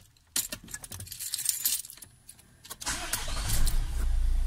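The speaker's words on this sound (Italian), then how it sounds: "La macchina parte." Keys jangle close by, then a Nissan Qashqai's engine cranks and catches with the key and settles into a steady idle, loud and near.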